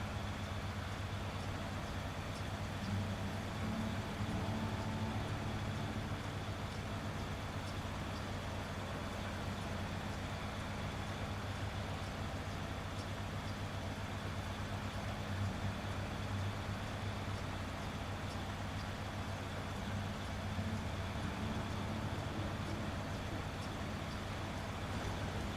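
A 963 truck's engine drones in SnowRunner, a low, steady rumble that runs unbroken and fairly faint for the whole stretch, with no talk over it.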